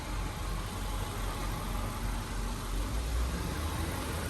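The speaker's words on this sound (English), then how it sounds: "It's idling a little bit low because of that exhaust leak" A Subaru Outback with a swapped EJ203 engine idles steadily a little low because of an exhaust leak, with a low, uneven rumble and a faint puffing rattle, constant throughout with no talking.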